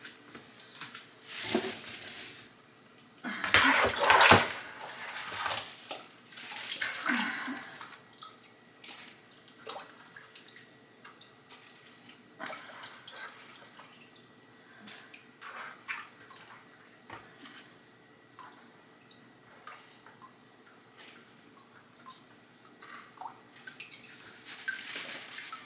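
Apple juice drained off cooked apples in a home kitchen patters and drips, with a louder splashing pour early on and then scattered trickles and drops over a quiet background.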